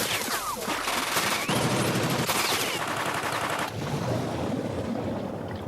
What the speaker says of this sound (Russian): Раз стреляют, значит живы.